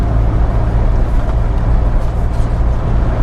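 Steady low road drone inside a 2005 first-generation Ford Everest 4x2 XLT 2.5 automatic SUV holding 110 km/h at about 2500 rpm, with a constant engine hum and broadband tyre and wind rush, no voices.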